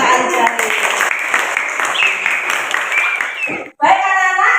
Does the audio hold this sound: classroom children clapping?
yes